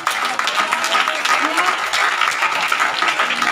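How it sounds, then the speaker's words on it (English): An audience breaks into applause at an entrepreneurship orientation session, steady dense clapping filling the room with some voices mixed in. "Applause for him."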